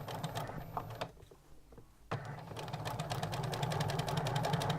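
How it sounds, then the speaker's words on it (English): A sewing machine stitches a French seam in a rapid, even mechanical patter that briefly stops near the middle and then resumes, running close and steady without speech. "as I'm sewing, I'm putting a bit of pressure just behind the sewing foot and just in front"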